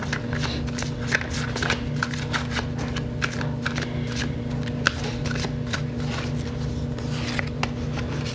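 Oracle cards being shuffled and drawn for a tarot-style reading, a rapid run of close, crisp riffling flicks and card slaps repeating steadily throughout, with no talk.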